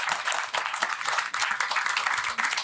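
Audience at a French media panel gives dense, steady applause: many hands clapping together in a continuous wash, close and fairly loud, with no distinct voices.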